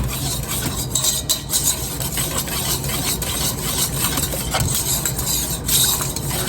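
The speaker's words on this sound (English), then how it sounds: "I'm just thickening, stirring to be sure everything is nicely incorporated" Thick beef stroganoff sauce with mushrooms and ground beef being stirred in a pot: continuous close scraping and sloshing with small clinks of the utensil against the pot.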